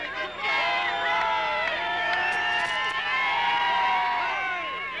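A large crowd cheers and shouts in welcome for Ian Smith, a dense, sustained roar of many voices with whoops that holds steady throughout.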